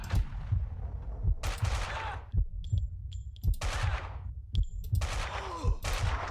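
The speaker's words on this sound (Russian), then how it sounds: "там еще кто-то стреляет" Gunfire in Max Payne 2: The Fall of Max Payne, with repeated close, punchy shots and bursts in irregular clusters, each followed by a brief echoing tail and some short metallic clicks between, loud with no talk.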